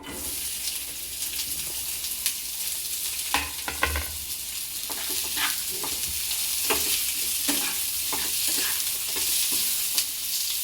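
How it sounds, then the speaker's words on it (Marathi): Onion sautéing in a little oil for a spicy mutton curry, a continuous close sizzle with intermittent clicks and scrapes of a spatula stirring the pan. "थोडंसं तेल ओतूया आणि आता यामध्येच आपल्याला कांदा परतून घ्यायचा आहे।"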